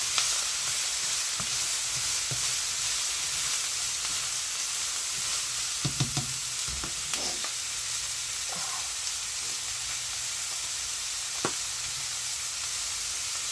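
Garlic stirred in a hot pan sizzles steadily and close, with a few scraping knocks of the utensil as it is mixed.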